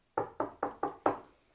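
Five evenly spaced knocks land on a door in a quick steady rhythm, close and clear against silence.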